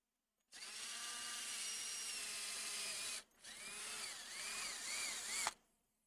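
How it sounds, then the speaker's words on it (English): A power drill whines steadily as it bores through a piece of wood, two long continuous runs with a brief pause between, pitch wavering under load, then stopping abruptly. "Looking for a piece of wood I can just drill right through."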